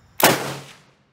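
A single sharp rifle shot from Bulgarian 8mm surplus ammunition, fired as a delayed hang fire, cracks loudly and then rolls off in a decaying outdoor echo lasting under a second.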